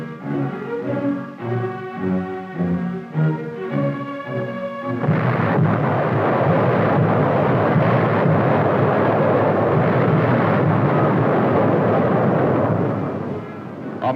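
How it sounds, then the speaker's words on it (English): Artillery of the American Fifth Army fires on the road to Rome in 1943–44 wartime footage. A loud, continuous rumbling barrage of booms rolls in after a stretch of orchestral music and holds for several seconds. "American Fifth Army artillery hammered back"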